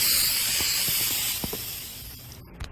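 A pressurized can of insecticide sprays in a steady, loud, close hiss lasting nearly three seconds before tapering off, with faint clicks underneath.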